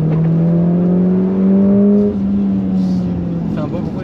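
A Mercedes accelerates on a racetrack, its engine a loud, sustained droning whine that climbs slightly in pitch, then eases off near the end.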